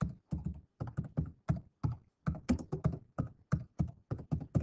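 Typing on a computer keyboard, a rapid run of distinct key clicks in short bursts with brief pauses, close and clear with no talk over it.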